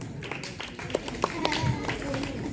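An audience claps at a school ceremony for an RO water plant inauguration, scattered claps and taps rising under a continuing voice.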